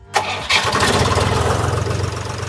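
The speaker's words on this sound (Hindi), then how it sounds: "और साउंड भी सुनाऊंगा मैं आपको इंजन का" A tractor's diesel engine, powering an attached concrete mixer, cranks and catches after a brief starter whir, then settles into a steady, loud, rumbling idle close by.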